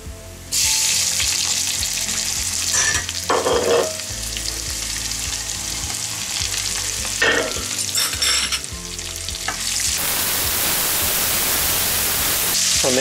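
Cauliflower and potatoes sizzle loudly in a pan with already scorched onions for a turmeric stew, a constant crackling hiss broken by scraping stirs and bursts of spitting oil.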